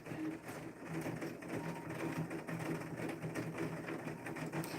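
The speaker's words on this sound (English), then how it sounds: "it's actually raining. It sounds like it on a tin roof, but it's actually on our air conditioner." Steady rain drumming on a metal air conditioner unit at a homestead, a dense, continuous rattling patter that holds evenly throughout with no pauses.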